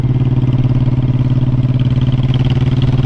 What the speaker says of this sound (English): yes, you hear my engine brake